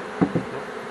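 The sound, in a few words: honey bees buzzing around a beehive honey super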